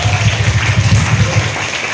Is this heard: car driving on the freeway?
no